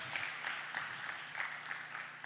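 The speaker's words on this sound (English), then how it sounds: "A warm round of applause for Brian" An audience at a personal finance talk gives a round of applause, soft and distant, with a steady patter of many hands and slight surges throughout.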